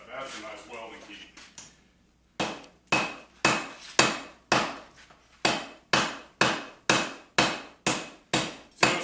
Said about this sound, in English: notice I started off with real light blows, and as it gets stuck together, you increase how hard you hammer it